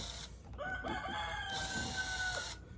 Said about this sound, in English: I don't know if the chickens are having a turf war or something, but they really like to make noise.